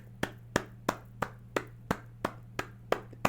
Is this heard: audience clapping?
yes